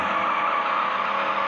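Car drifting with a continuous tire squeal in the racing game Need For Speed No Limits, a loud steady screech over engine noise, alone throughout.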